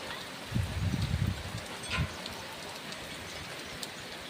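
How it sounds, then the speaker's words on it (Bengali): Heavy afternoon rain falls outdoors as a steady broadband hiss, with a brief low rumble near the start and no one speaking. "তো বলতে বলতে কিন্তু প্রচণ্ড বৃষ্টি শুরু হয়ে গেছে"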